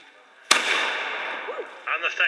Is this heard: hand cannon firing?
yes